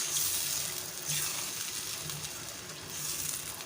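Water poured into a pan of chickpea curry masala gives a soft, steady hiss and sizzle, close and fairly quiet throughout, with no voices.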